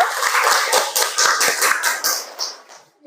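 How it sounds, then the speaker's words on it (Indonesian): A classroom of students clapping together, a dense burst of hand claps lasting a few seconds before tapering off and stopping, fairly close and loud. "Oke, beri tepuk tangan dulu."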